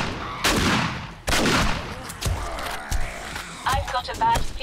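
Guns fire in the survival game 7 Days to Die during an Undead Legacy horde night, in loud separate bursts spaced a second or so apart. Clattering impacts and game noise fill the gaps, and voices sound faintly underneath.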